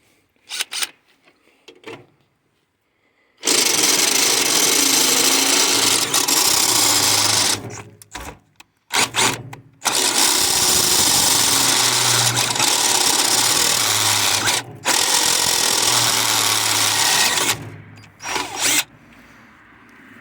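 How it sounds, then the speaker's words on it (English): A power drill whines in long bursts while drilling out a part on a 1951 Case VAI tractor, starting and stopping several times with short quiet gaps between runs, loud and close. "we're going to drill this out"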